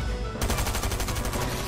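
Rapid automatic gunfire from a Fortnite Chapter 3 match, a dense burst of repeated shots starting abruptly and continuing loud and steady without pause.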